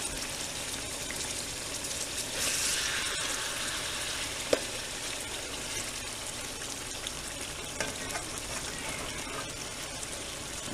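Burgers frying in grease in a pan, a steady, close sizzle and crackle that runs continuously, with a few small pops and no talking.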